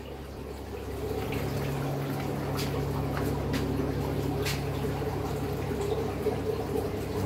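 Water in a large piranha aquarium runs back through the plumbing after the pump is switched off, a steady close-up gurgling rush with a few soft splashes and no talking.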